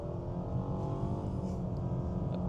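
A 2025 facelifted Mitsubishi Outlander with a 2.5 litre petrol engine accelerates hard in tarmac mode, a steady low engine drone heard from inside the cabin, continuous and fairly quiet throughout.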